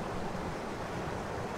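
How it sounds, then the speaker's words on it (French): A stream of water flowing loudly beside the listener outdoors, a dense, steady rushing wash with no pauses or voices. "je suis au bord d'un cours d'eau. Et du coup, ça fait beaucoup de bruit"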